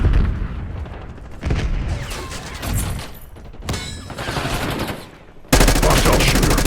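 Gunfire in Call of Duty: Black Ops 6 during a Season 3 match, with close, loud bursts of automatic fire and explosions, ending in a sustained rapid volley, while faint voices sit underneath.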